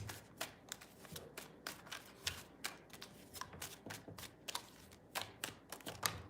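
Tarot cards being shuffled by hand, a rapid series of close, crisp riffling bursts in an uneven rhythm at quiet level, with no talk.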